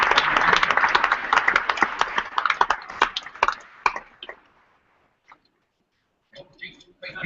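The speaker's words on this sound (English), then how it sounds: "I think we should give a round of applause to those customers that we're celebrating this morning." Conference audience at Magento Imagine gives a round of applause, dense clapping for about four seconds that thins to scattered claps and dies into near silence before a few brief sounds return.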